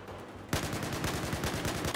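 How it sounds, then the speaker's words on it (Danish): An AK-12 rifle fires in Battlefield 4 gameplay, a rapid automatic burst of closely spaced, loud shots that starts abruptly and continues steadily to the end, with no talk over it. "Jeg tror det her, det er en AK-12. Det er sådan en AK-47, der skyder hurtigt."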